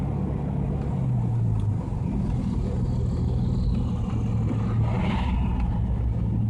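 A 1989 Jeep Cherokee with a sticky accelerator cable and a cracked radiator drones along on a test drive, its engine a loud, steady low rumble heard from inside the vehicle, with no talking.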